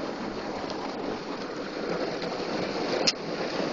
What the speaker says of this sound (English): Look how much rain is pouring.